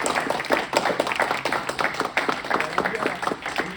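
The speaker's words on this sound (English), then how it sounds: "Give him a round of applause." An audience gives a round of applause at a motivational talk, with steady, moderately close clapping throughout and a voice faintly over it.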